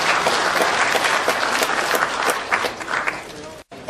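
Warm, dense applause from the audience at a Korean local newspaper anniversary ceremony, loud and continuous, briefly dropping out near the end.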